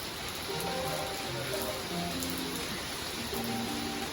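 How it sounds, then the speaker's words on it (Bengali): Heavy rain pouring steadily, a dense continuous wash of falling water that stays loud and even throughout with no pauses. "বৃষ্টি এত জোরে আসলো"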